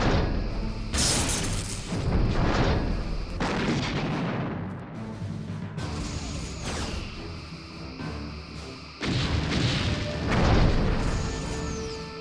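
Heavy weapons fire in the Star Trek Bridge Commander space combat game, with repeated booming blasts and crashing impacts arriving in dense loud bursts, separated by brief lulls.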